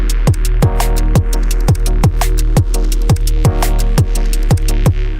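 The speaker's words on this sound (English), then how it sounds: "So it's some drums, there are some pad sounds here, bass sound, and some chords." Electronic track in Bitwig Studio with drums, pads, bass and chords, a steady loud kick pulse on every beat under sustained pad and chord tones, playing alone.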